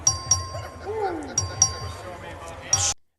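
A voting bell rings several times in short bursts, clear and metallic, over a low murmur of voices in a large legislative chamber.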